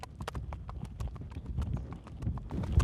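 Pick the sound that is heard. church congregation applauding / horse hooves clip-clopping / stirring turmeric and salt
horse hooves clip-clopping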